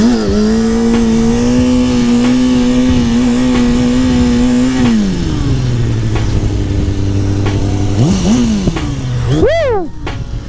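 A stock Kawasaki 636 sport motorcycle engine revving under way with stock gearing, a loud close steady drone that drops in pitch at a shift and then climbs in sharp rising revs near the end.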